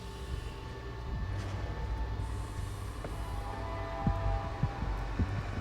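A train car rolling along in Batman: The Telltale Series, a steady low rumble with a faint hum and a few irregular thumps and clunks toward the end, heard alone without talk.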